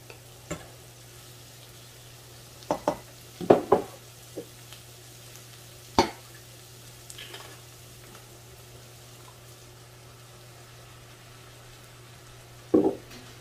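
Meat and sauce hit a pan of cooked-down onions for baked spaghetti, giving a low simmering bubble under scattered sharp clinks and scrapes of a spoon stirring, with a final clatter near the end and no speech.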